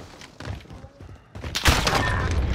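Gunfire in a battle royale game: scattered thumping shots early on, then a loud close burst of firing that keeps crackling to the end.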